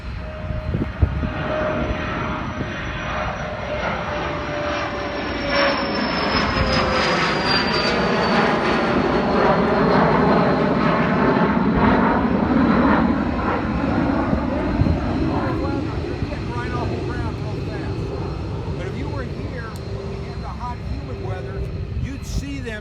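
A small jet's engines roar loudly and steadily with a high whine on top, building and holding as it rolls down the runway.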